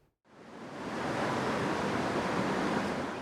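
High floodwater swirling near a dam in Minnesota, a dense, constant rushing roar that rises quickly from near silence and then holds steady and loud, with no voices over it.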